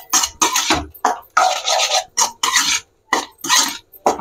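A spoon is stirred briskly through chicken fry with masala in a pan, giving repeated scraping, rasping strokes in short bursts with brief pauses between them, close and fairly loud.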